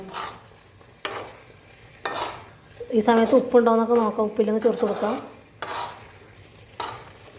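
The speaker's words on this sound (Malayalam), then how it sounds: "ഒന്ന് പതിയെ ഇളക്കി കൊടുക്കുക" Thickened taro curry (chembu koottukari) stirred in a pan with a metal spoon that scrapes and clinks in repeated strokes, while someone talks over it in a close kitchen setting.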